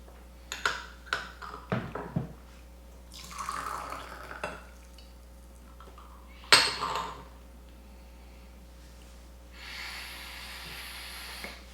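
A porcelain gaiwan lid clinks during a rinse of Tie Guan Yin tea, with several sharp, close taps early on, one louder clink later, and soft pouring, hissing water between them, with no talking.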